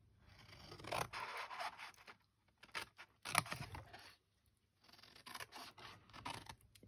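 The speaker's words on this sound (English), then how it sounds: "Just going to cut straight up these score lines to the center." Scissors snip and scrape along the score lines of card for a Ferrero Rocher gift box, several short close cutting strokes with pauses between them, no talking.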